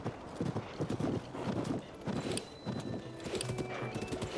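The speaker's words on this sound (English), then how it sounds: "Got me a gold horse." A horse in the Zelda: Tears of the Kingdom video game clip-clops along at a gallop with rhythmic hoof beats, and a brief whinny is mixed in. The sound is moderately loud and close, and no one talks.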